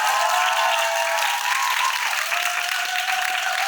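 Sustained audience applause at a Korean film guest-visit screening in Yongsan, a dense, even roar of clapping hands filling the hall, with a faint voice and tones faintly beneath.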